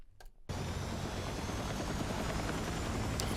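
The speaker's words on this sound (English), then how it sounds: "Get comfortable with being in the air with the helicopter." A helicopter in the video game Battlefield 6 lifts off and hovers, a dense, steady rotor and engine roar that starts abruptly after a brief quiet moment and stays loud and close throughout.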